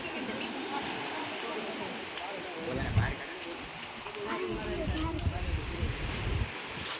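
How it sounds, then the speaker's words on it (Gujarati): Steady rushing wind and sea surf wash over the scene, with a louder swell surging near the middle and again toward the end. "તો જો મિત્રો, આ છે દરિયો"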